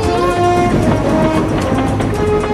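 An animated express steam train rushes past in a Thomas & Friends cartoon, loud and close, with a sustained whistle tone and rumbling motion over the short burst.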